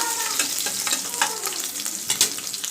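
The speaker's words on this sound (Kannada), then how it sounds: "ಇದು ಸ್ವಲ್ಪ ಕಲರ್ ಚೇಂಜ್ ಆಗೋಂತ ನಾನು ಫ್ರೈ ಮಾಡ್ಕೊತೀನಿ" Garlic sizzles in hot oil with mustard seeds in a pan, a continuous close frying hiss with small crackles and occasional stirring scrapes.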